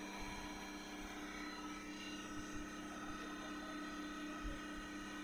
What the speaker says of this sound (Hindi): अब 1000 आरपीएम करेंगे मशीन का